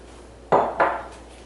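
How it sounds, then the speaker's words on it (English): Chopped carrots and celery drop into a soup pot, landing in two quick, close, muffled thuds. "To that, I'm going to add 3 cups of carrots."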